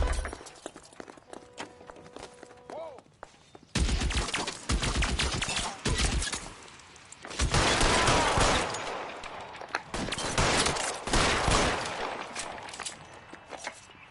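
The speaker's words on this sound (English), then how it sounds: "Open fire!" Gunfire in the video game L.A. Noire, with bursts of rapid shots in several loud clusters separated by quieter gaps of movement and footsteps, with no talk.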